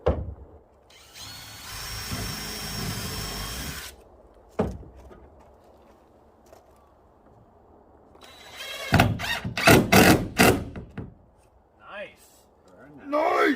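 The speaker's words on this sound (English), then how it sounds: "Let's pre-drill up." A power drill whines steadily for about three seconds while pre-drilling holes in wood on a vintage trailer, followed by a sharp knock, quiet stretches and voices talking nearby.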